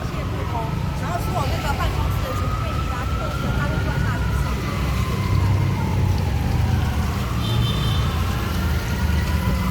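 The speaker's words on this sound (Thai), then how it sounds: "เราได้ยินเสียงรถกู้ภัยไปแล้วรู้สึกแบบ ตกใจนะเพื่อน" A rescue vehicle siren wails through city streets an hour after an earthquake. Its rising and falling tone sounds moderately distant over a constant rumble of traffic, and voices are audible nearby.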